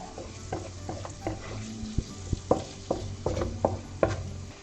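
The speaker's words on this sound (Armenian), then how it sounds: "միանգամից շարունակում ենք տապակելը ևս 1-2 րոպե, խառնելով, այսպես։" Onion fries with black and red pepper in a pan under a constant sizzle, while a utensil stirs and knocks against the pan in an irregular rhythm close by.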